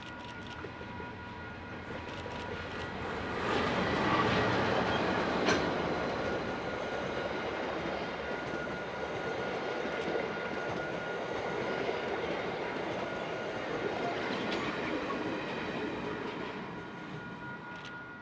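A train on New Zealand's Main Trunk Line rumbles past, the Te Huia passenger train following a steam locomotive, its roar swelling and then holding steady with rhythmic wheel clatter and a faint squeal, no talking.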